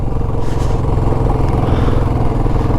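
A vehicle engine drones loudly and steadily at close range on the high mountain road to Bumla Pass, with a deep, constant rumble and faint rattling, and no voices.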